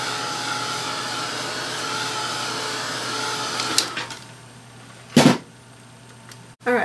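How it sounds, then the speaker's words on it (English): A heat tool blows steadily over washi paint on an acrylic art journal page, a loud, even whir that cuts off partway, followed by a couple of brief clunks and bumps nearby. "So let's dry this since I put some washi paint on there."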